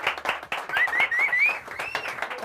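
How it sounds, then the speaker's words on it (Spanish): A small group claps in rhythmic, uneven bursts to welcome a first-time guest at a winery tour in Villaviciosa and Navalcarnero, with whoops and voices cheering over the clapping. "Fuerte aplauso para mi amigo Fernando."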